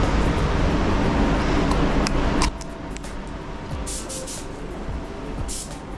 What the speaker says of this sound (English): I'm gonna spray it at 35 psi